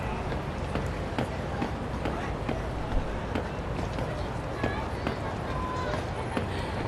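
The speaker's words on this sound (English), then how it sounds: "footsteps move while you're running" Running footsteps in the video game 13 Sentinels: Aegis Rim, a quick steady patter of steps over a dense background ambience.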